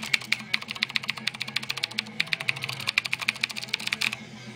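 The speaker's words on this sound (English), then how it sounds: "have the blue switches, which are really noisy" Rapid, loud clicking of a Razer BlackWidow keyboard with blue switches, close up and steady for several seconds, keystrokes coming in quick uneven bursts with no voices.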